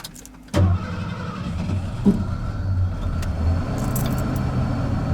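A junkyard-parts Ford Bullnose truck engine cranks and catches with a sudden loud burst, then settles into a steady rough running rumble close by, with a brief clunk partway and faint rattles.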